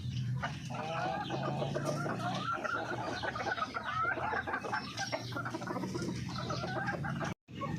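Darag native chickens clucking at close range in a busy, continuous flock chorus, many overlapping clucks and calls throughout, with a brief dropout near the end.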